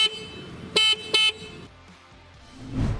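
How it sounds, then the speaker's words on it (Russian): Two short, loud honks come from the horn of a CityCoco 3000 W electric scooter, sounded in quick succession, followed by quiet and a low rumble of handling noise at the end. "и громкий сигнал клаксона."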